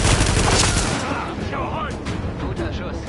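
Gunfire bursts from the third-person shooter The Division, set in Brooklyn, a dense rapid volley at the start fading into scattered shots as in-game voices speak over the fight.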